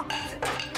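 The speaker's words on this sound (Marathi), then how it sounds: "अगं भांडी खराब होतील" Steel pots and dishes clatter and clank in a household kitchen scuffle, a loud continuous jangle with two sharper bursts of metal striking metal.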